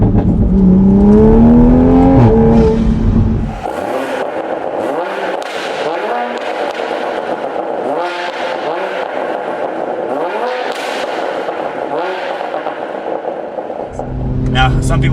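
A Toyota A90 Supra with a straight-pipe exhaust and downpipe revs hard and then pulls through repeated rising accelerations, a loud, raspy engine note close by, with speech audible over parts of it.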